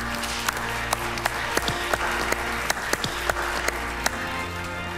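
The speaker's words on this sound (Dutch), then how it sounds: "Applaus!" Audience applause during a Dutch comedy stage show, a steady bed of crowd clapping with sharp, louder individual claps popping out irregularly over a low hum.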